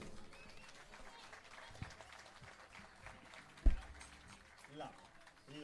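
Concert audience applauding: steady, moderately faint clapping from a crowd runs throughout beneath someone speaking Italian into a microphone, with one sharp thump partway through.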